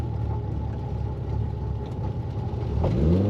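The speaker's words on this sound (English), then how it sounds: "Nice smooth running Triumph." Steady idle from a 1973 Triumph TR6 convertible with a 4-speed manual, a smooth, even engine rumble up close that swells slightly louder near the end, with no talking.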